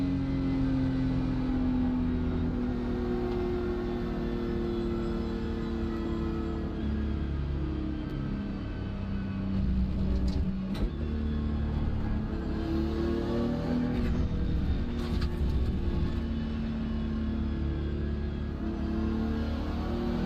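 A BMW race car engine in the iRacing sim at Road Atlanta drones steadily throughout, its harmonic pitch rising and falling as the car accelerates and shifts, sustained and fairly loud with no talk.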